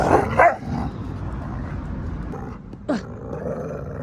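A dog in a garden lets out a loud bark at the start, then a low rumbling stretch, then a sharp yelping bark near the end, close by with no talking.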